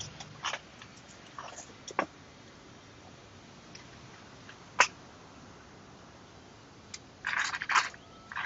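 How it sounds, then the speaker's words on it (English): Someone chewing food close to the microphone, with scattered crunchy bites and short clusters of mouth sounds separated by quiet pauses. "Can hear me chewing"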